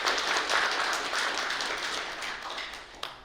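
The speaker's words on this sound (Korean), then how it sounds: "뜨거운 박수 부탁드립니다." Applause from the audience at a Korean unification culture festival award ceremony as guests are introduced, a steady, moderately faint wash of clapping that thins toward the end with one sharper clap near the close.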